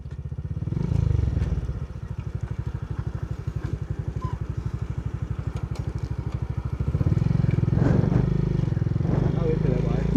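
A small motorcycle engine runs close by at a cycling road race, chugging in a fast steady pulse that swells louder toward the end, with a commentator talking over it.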